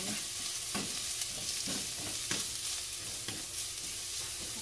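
Garlic frying in oil, a constant dense sizzle with rhythmic stirring scrapes of a utensil against the pan, close and fairly loud, without talk.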